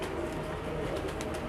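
Pigeons coo softly and continuously nearby, a low throaty murmur with a few brighter chirps toward the end.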